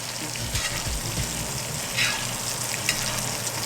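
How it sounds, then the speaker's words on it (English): Butter bubbles and sizzles in a pan while a steak sears, a continuous close frying hiss with scattered pops and spatters, no talk over it. "You can see the butter starting to bubble up a little bit while I do it"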